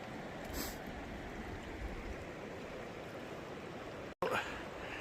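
Water of Lamb Creek flows in a steady, continuous rush close by, with a brief interruption near the end.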